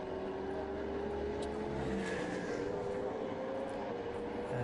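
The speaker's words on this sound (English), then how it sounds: "there comes the Ferrari trying to find the way past the Lamborghini" Ferrari and Lamborghini GT3 endurance race cars at Silverstone circuit, a steady loud engine drone with rising tones as the cars pass and chase each other, continuous throughout with no talk.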